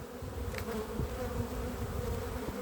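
Honey bees buzz in an open hive during a spring colony inspection after prolonged rain, giving a steady close-up hum with faint scattered knocks.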